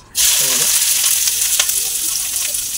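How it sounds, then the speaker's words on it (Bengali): Cucumber and onion hitting hot oil in a wok, a sudden loud, close sizzle that bursts in and holds steady as a continuous hiss, with no talking. "তেলটা গরম হয়েছে, গরম হয়ে যাওয়ার পর এবার এটা দেবে, ভাজবে এগুলো শসা পেঁয়াজটা"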